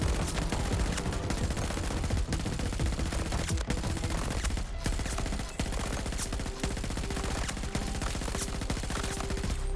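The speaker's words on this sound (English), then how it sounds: "The next one, the MTAR. This weapon has a really fast rate of fire." The MTAR assault rifle in Battlefield 2042 fires in long, dense bursts at a high rate. The sharp reports run almost continuously and loudly for the whole stretch, broken only by a few brief gaps, with no voices.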